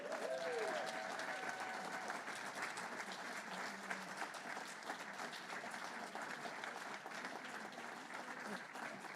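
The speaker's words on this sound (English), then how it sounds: "one more round of applause" Sustained applause from a crowd, steady clapping filling the room for several seconds with a hint of cheering underneath.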